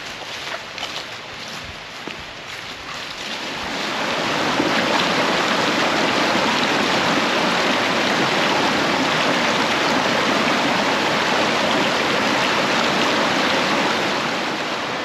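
Creek water on a hiking trail rushes and flows steadily, starting quieter with some movement nearby and then swelling into a loud, continuous broadband wash up close.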